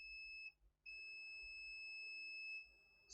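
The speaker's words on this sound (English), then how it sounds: "Second capacitor is beeping both sides." A faint, steady electronic tone from a multimeter continuity tester checking capacitors on a faulty laptop motherboard beeps, cuts out briefly, then resumes and holds in a quiet room.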